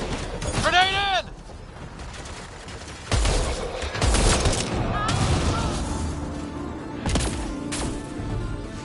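A grenade detonates amid a firefight in Mass Effect Andromeda, a heavy boom among sharp gunshot bursts and sci-fi weapon tones, with combat chatter from squadmates in between.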